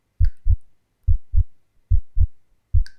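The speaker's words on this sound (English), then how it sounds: "I feel my heart pounding in my chest" A deep, steady heartbeat thumps in pairs, four double beats in a slow, even rhythm, close and heavy against near silence.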